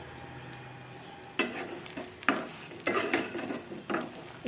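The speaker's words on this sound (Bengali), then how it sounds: "মাছ ভাজা তেলের মধ্যেই বেগুনগুলো ভেজে নিচ্ছি।" Eggplant pieces fry in oil left over from frying fish, with a soft sizzle under repeated spatula scrapes and stirring clatter against the pan.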